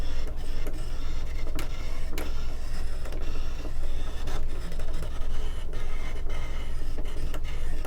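A Brother Scan N Cut machine cutting frames whirs steadily at close range, its motor drone broken by small clicks and scraping strokes as the blade tracks across the material.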